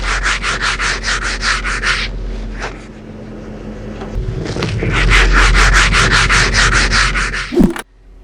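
Steady back-and-forth rubbing of sandpaper on a cracked perforated leather seat of a 1996 Mercedes-Benz S420 W140, close and loud, in rhythmic strokes, pausing briefly midway before resuming, ending with a short knock.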